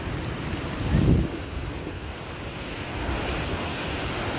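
A clear, very cold mountain stream rushes steadily in a constant close wash near Babusar Top, with wind buffeting the microphone now and then.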